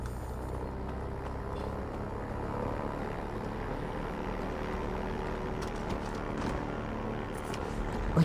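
A propeller airplane in the video game Far Cry 4 drones steadily as it prepares for takeoff, a continuous even engine hum at moderate volume with no speech.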